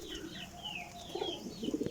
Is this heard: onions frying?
no